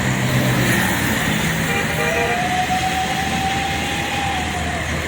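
Busy road traffic on Jalan Soekarno-Hatta in Palembang in the afternoon, a steady loud wash of passing cars and heavy vehicles with a rising engine drone partway through; a voice speaks faintly at the start.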